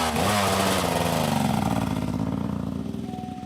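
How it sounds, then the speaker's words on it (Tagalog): Motorcycles rev loudly along a street at night, a rising engine roar that peaks early and then slowly fades as it passes, ending on a lone higher whine. "Dagdag mo pa yung mga motor na bumubomba."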